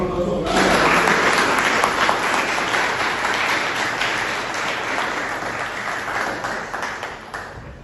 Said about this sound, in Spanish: Así que fuerte aplauso a todos.